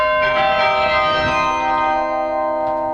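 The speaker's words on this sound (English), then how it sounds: "we've got an instrument that's playing real bells" Carillon bells in the House of Hope Presbyterian Church bell tower in St. Paul, played from a keyboard, ring out as several loud, overlapping, sustained tones that keep humming and decaying throughout.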